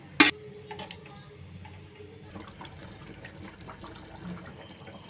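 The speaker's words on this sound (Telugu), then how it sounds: "మసాలా అంతా వేగిపోయింది, వాటర్ పోసుకుందాము" Water is poured into fried masala for a vegetable aloo kurma, a soft, faint liquid trickle after a sharp click at the start, alone with no talk.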